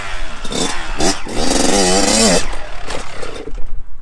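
Kawasaki KX112 dirt bike revving hard through a wheelie turn, a loud, close two-stroke engine whine rising and falling in pitch for a few seconds before easing off.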